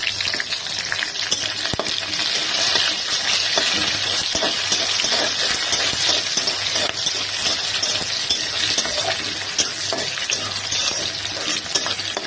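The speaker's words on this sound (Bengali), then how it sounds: "এখন আমি দিয়ে দিব কেটে রাখা পেঁয়াজ ফালিগুলো" Sliced onions stir-frying on high heat for a Chinese-style chicken vegetable dish, a loud steady sizzle with spatula scraping and stirring throughout, close and continuous.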